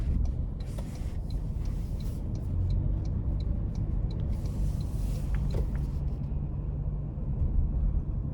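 A 2025 Toyota Land Cruiser 1958 in sport mode pulls hard onto an interstate, its engine a steady, continuous rumble with road noise heard from inside the cabin.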